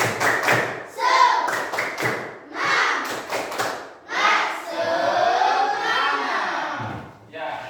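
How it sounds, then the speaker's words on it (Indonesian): A class performs the rhythmic 'tepuk semangat' clapping chant during an Al-Quran Hadis lesson, with bursts of claps and thuds in patterned groups mixed with loud group voices close by. "Baiklah, kita akan mulai tepuk semangat."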